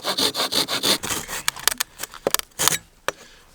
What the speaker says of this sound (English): little silky saw, this thing comes very much in handy.